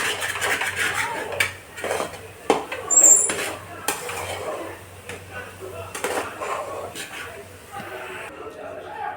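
A spoon stirs besan roasting in a kadhai, making irregular metallic clinks and scrapes against the pan, some louder knocks, over a faint sizzle while someone talks.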